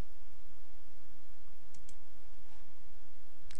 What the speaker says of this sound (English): go ahead and left click and drag that piece down right above the vase